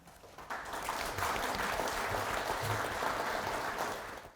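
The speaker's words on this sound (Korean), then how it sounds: "큰 박수로 환영해 주시기 바랍니다." Steady applause from a lecture audience welcomes a rehabilitation medicine professor onto the stage for a knee joint health talk, a sustained wash of clapping that swells quickly and fades near the end.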